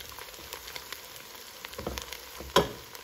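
Chopped onion fries in a pan as it browns, a steady close sizzle with small pops and crackles, one sharper clatter near the end.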